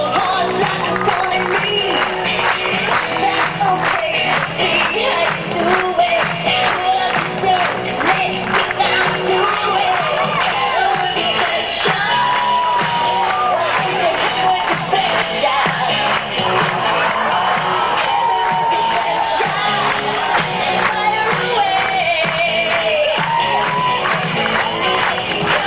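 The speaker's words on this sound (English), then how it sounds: "Some clapping, people, come on." An audience claps and cheers in a continuous, dense wash of applause, whoops and excited shouting that stays loud and busy from start to finish.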